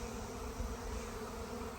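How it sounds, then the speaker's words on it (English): A freshly emerged honeybee swarm pours out of a hive in a continuous, dense buzzing drone, close and steady throughout, with no voices. "So here's a swarm that just came out of one of my hives."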